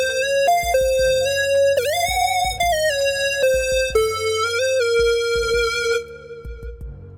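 Xpand!2 unison square-wave synth lead layered across two slots with hall reverb and chorus, playing a bright, buzzy melodic line of sustained notes with pitch slides and rich harmonics, loud and clear with no talking.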